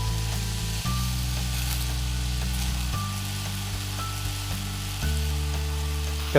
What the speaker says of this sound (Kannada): ನೀವು ಹೆಚ್ಚಿನ ಉರಿಯಲ್ಲೇನೆ ನಾನು ಇದನ್ನು ಫ್ರೈ ಮಾಡ್ತಾ ಇದ್ದೀನಿ